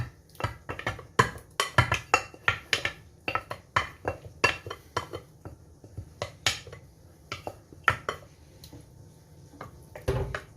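Cornbread dressing scraped and dumped back into a greased baking pan, heard as a quick series of close, irregular clinks and scrapes of a utensil against the pan, with no talking.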